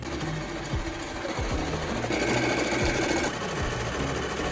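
A sewing machine runs steadily while stitching a circle skirt, a continuous loud mechanical whir with no pauses, close to the machine and with no voices.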